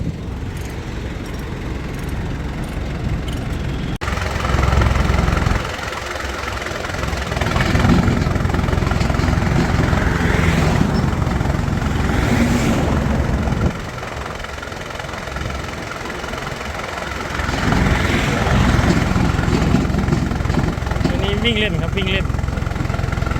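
A tractor engine chugs and idles continuously at close range, its loud mechanical drone rising and falling while people talk over it.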